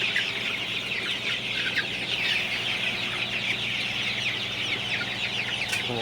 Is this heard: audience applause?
no